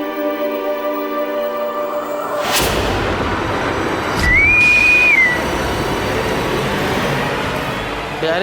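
A person gives one short, steady, high whistle lasting about a second, cutting through a dense, noisy background that follows a burst of music.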